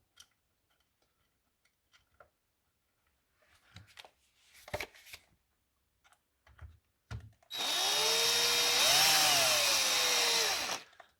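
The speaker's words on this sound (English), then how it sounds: "Now we'll just attach the bracket to the wall through the hole." Mounting a bracket for a TEK 822 cellular propane monitor to a wall: a few scattered taps and handling knocks, then a loud close power drill drives a screw in one continuous whine for about three seconds.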